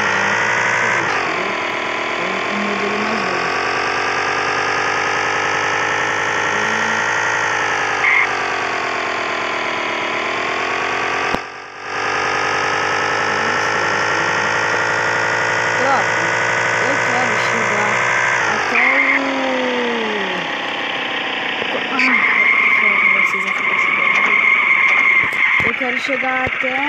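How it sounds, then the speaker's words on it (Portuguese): A 160 cc motorcycle engine hums close by, its revs sweeping up and down in smooth waves over a steady idle, with a brief dip midway and a busier, rougher stretch near the end. "essa moto é 160 cilindradas"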